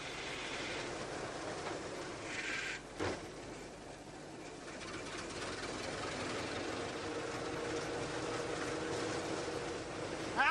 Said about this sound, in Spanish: aceleramos un poco y soltamos el embrague. Cogemos un poco de velocidad y engranamos la segunda marcha